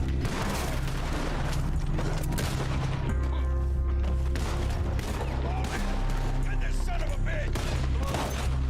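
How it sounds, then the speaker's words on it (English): Dense, continuous gunfire during a Red Dead Online shootout, with loud overlapping shots and booms throughout while players talk over the action. "Nice shooting, Cypher."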